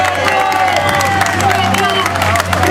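Audience applause at a DC Coalition to Save Our Children lobby day event, a dense steady wash of clapping mixed with crowd noise and some cheering, sustained and fairly loud throughout.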